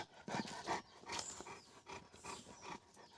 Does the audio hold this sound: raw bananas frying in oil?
no